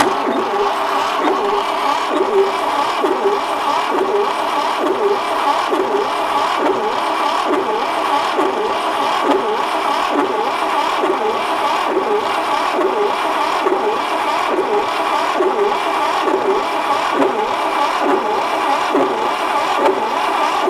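A 1968 Fiat 500 engine runs a steady, even mechanical churn with a regular pulsing beat, held close and loud for about twenty seconds with no voices over it.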